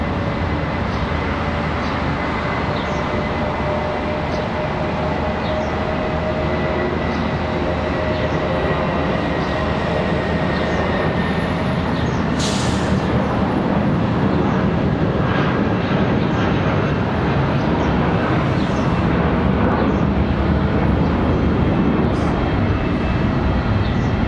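An airliner departing Charlotte Douglas airport, a loud sustained jet roar that swells and holds throughout, broad and steady with a slight rise, no talking over it.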